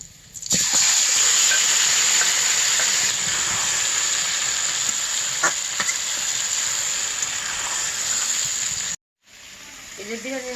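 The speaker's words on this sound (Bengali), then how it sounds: "এই কড়াইটার মধ্যে আমি এখন মাংসগুলো দিয়ে দিব" Meat frying in a kadai on a clay stove gives off a loud, hissing sizzle that fills most of the clip. It cuts off abruptly near the end, and a voice follows briefly.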